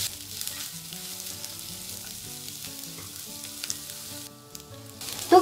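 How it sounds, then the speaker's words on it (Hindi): Finely chopped onion and ginger-garlic paste fry in a pan for potato masala dosa filling, giving a continuous soft sizzle with quiet stirring scrapes and a louder clunk at the very end. "तो सभी को चलाते हुए भून लेंगे और प्याज को हल्का गुलाबी होने तक भून लेंगे।"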